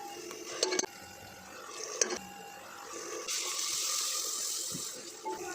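Water is poured into a curry cooking on the stove, a soft, steady running splash that swells briefly after a few faint clinks, fairly quiet and with no talk.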